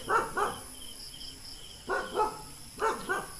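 A dog barks from across the way on a wooded mountainside near an abandoned house, three clusters of paired barks over a steady bed of insect buzzing.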